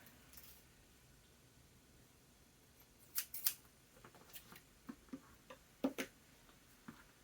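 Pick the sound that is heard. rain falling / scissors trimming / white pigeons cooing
scissors trimming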